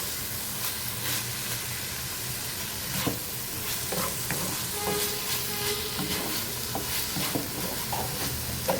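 Chicken and green chillies are stir-fried dry in a pan. A continuous hiss and sizzle runs throughout, with repeated spatula scrapes and clinks and no talking.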